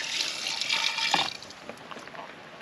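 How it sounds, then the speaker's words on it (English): A cup of wine pours into a pressure cooker, a close, bright liquid splashing that is strongest at first and tapers into a softer trickle. "We're gonna go ahead and do 1 cup of wine, and this will go into the pressure cooker."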